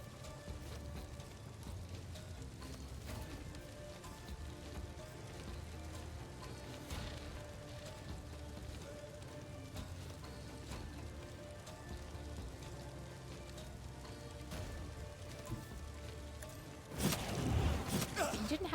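Rain falls steadily in the video game Rogue Trader, a continuous soft hiss beneath game music and a speaking voice, swelling louder and rougher near the end.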